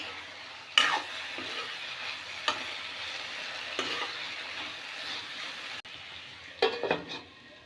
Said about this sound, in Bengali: আর এদিকে আলু দিয়ে উচ্ছে ভাজা করছি